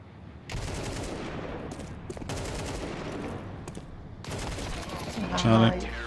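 Rapid gunfire bursts crackle in a Counter-Strike Wingman match on the Vertigo map, with a Galil rifle involved, dense automatic volleys with brief gaps and a louder flurry near the end.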